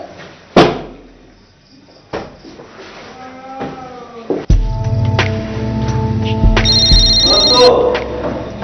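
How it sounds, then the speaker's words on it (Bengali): A telephone rings at night in a movie scene, a bright electronic bell trilling late in the clip after thuds like a door or drawer, voices and a loud music score beneath. "এত রাতে থানা থেকে ফোন"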